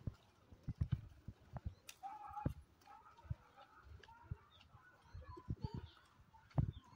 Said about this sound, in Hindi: इसका नाम है शेरनी और है डांसिंग घोड़ी पूजा, बहुत ही बढ़िया डांस करती है